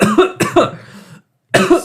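A person coughs in a quick cluster of three harsh bursts, then pauses briefly before one more cough, close and loud.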